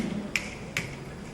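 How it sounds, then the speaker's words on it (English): Two sharp finger snaps in quick succession, close and crisp, with quiet background between them. "With your dominant hand, snap your fingers 5 times very quickly."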